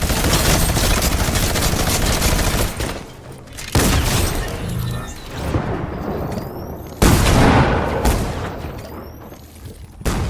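Combat shotgun fire in a video game, heavy booming blasts in dense volleys with short gaps, loud and close, mixed with other battle noise.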